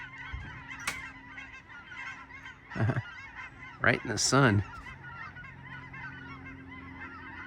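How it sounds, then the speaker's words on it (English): A migrating flock of cackling geese keeps up steady background honking, and a few louder, nearer calls stand out over the chorus while a person speaks briefly. "The sound you hear in the background are the cackling geese."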